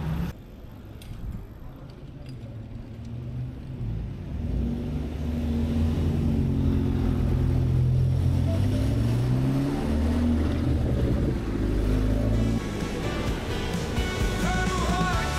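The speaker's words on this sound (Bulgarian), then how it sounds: "Защото съм малко в трафика тука." Road traffic rumbles past a bicycle riding through The Hague, Netherlands; low engine noise swells after a few seconds and stays close and steady, with faint higher chirps near the end and no talking.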